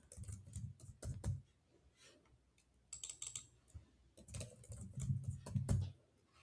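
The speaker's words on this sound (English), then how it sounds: "I'm just going to create a password for this." Short runs of fairly close keystrokes on a computer keyboard as a password is entered, in clustered bursts separated by brief pauses.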